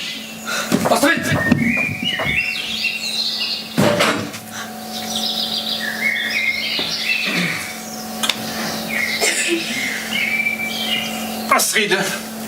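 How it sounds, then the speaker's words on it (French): A small bird sings outdoors in repeated bright chirps and short trills spread across the whole stretch, moderately near, with occasional knocks and thumps in the background. "Vous l'entendez, le petit oiseau?"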